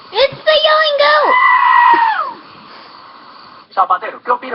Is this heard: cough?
no